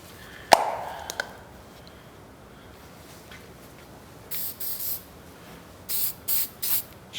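Adhesion promoter sprayed onto raw plastic of a 2013 Toyota Tacoma front bumper cover: a sharp initial burst, then several short aerosol hisses in quick succession near the end, close and alone.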